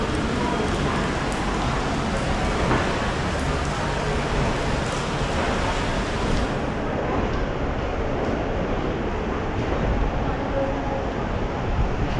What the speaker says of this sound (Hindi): बारिश लगी हुई है